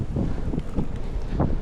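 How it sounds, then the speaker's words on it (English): Strong wind buffets a helmet or handlebar camera microphone during a city bike ride on uneven cycle paths, a steady low roar with gusty swells throughout and no speech. "Oh, the wind is really kicking it today."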